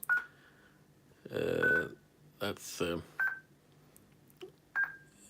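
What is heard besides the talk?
telephone dialing tones on a phone line connection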